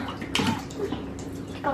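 A young girl splashing and sloshing water in a sink while playing with a Barbie and another doll, close, soft watery swishes and drips with faint voices in between.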